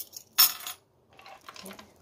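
Keys pulled from a handbag give one short, bright metallic jingle, followed by a few softer rattles and clinks, close and fairly quiet.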